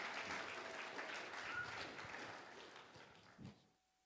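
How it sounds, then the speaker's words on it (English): Audience applause for guests at a church service, a dense wash of clapping that holds steady for over three seconds and then fades quickly, with one last louder clap near the end. "Round of applause for our guests."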